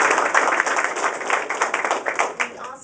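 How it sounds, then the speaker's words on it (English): A crowd at a National Night Out proclamation event applauds steadily with dense, fairly loud clapping throughout. "Can we give them all a round of applause?"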